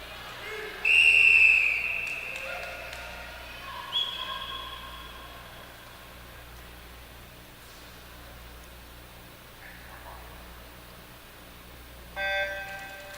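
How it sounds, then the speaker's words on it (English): A shrill get-ready whistle before a women's 100-meter butterfly heat at an indoor swim meet, one sharp blast over hollow pool-hall noise, with fainter short tones later. "And there it is, the get ready whistle."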